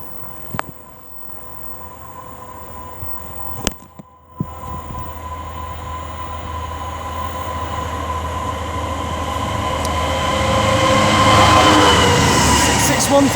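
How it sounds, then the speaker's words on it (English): A DB Cargo UK Class 66 diesel locomotive hauls a freight train past on the Chiltern Main Line at Solihull, a steady rumble building and growing louder as it nears, with a few sharp clanks early on. "It'll be a DB Cargo UK Class 66 working 4 Mike 71 from Sultan West Docks berth 109 to Birch Coppice Exchange sidings."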